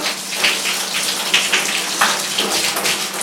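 Running water rinses conditioner out of curly hair during a wash, a close, continuous splashing stream with soft surges as the hair is scrunched, and no one speaks.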